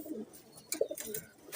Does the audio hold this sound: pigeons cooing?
yes